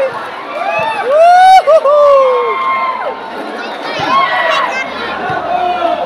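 A crowd at a local basketball game in Bogo, Argao, Cebu cheers and shouts loudly and continuously, with excited whoops and children's voices rising over a busy babble.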